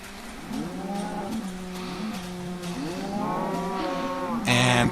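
Cattle in Minecraft, penned in pairs, moo repeatedly in long, wavering calls that overlap one another, close and fairly loud, with a sharp burst of noise at the very end.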